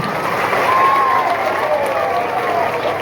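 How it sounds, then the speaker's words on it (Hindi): Steady crowd applause, loud and continuous, with a faint whistle or cheer rising above the clapping. "ऐसा जोरदार तालियां मुस्कान के लिए"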